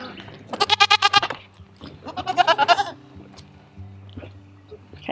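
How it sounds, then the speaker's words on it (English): Tiny first-freshener dairy goats bleat in two loud, quavering bursts close by on a home farm, followed by quieter rustling and a brief soft voice in the background. "These tiny goats just kill me."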